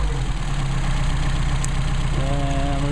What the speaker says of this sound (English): The engine is stumbling, back it out. Starting to run rough, run it back in, our midpoint.